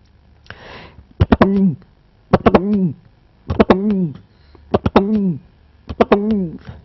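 A voice imitates a male pigeon's cooing: a breathy intake, then five rhythmic rolling coos with rising-falling pitch, close and clear.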